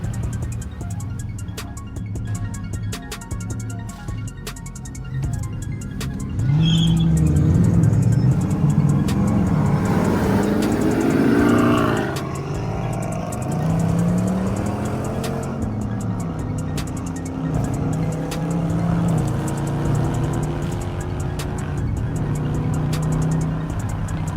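A Dodge Challenger R/T cutting through traffic sounds from inside the cabin: a low engine rumble that surges into a loud, rising revving pull mid-way, then settles back to steady cruising drone.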